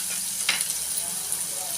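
Chopped onion fries in hot oil with cumin and asafoetida, giving a steady, close, hissing sizzle with faint crackles throughout.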